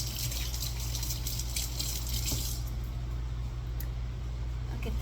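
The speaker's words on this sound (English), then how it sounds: "let me just rinse my hands" Hands are rinsed under a running tap while making homemade vanilla extract, giving a continuous close splash and gush of water, with a faint low hum underneath.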